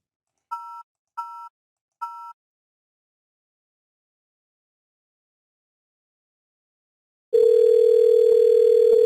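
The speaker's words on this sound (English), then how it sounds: "Now I have received a dial tone." Three short two-tone beeps, then after a pause a steady, loud continuous hum of a telephone dial tone that runs to the end.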